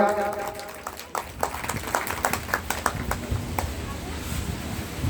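An audience claps for a donor at a Hindu religious discourse gathering, a scattered, uneven run of hand claps that starts near the second mark and continues, with voices underneath.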